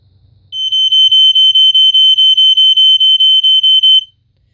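A loud, shrill Fyrnetics Lifesaver 2nd Gen F-900D smoke detector beeps rapidly in a slightly uneven, staggered 5/6 pattern during a test, about fifteen sharp tones, then stops abruptly.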